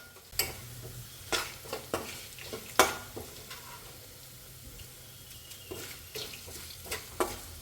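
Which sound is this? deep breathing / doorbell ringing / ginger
ginger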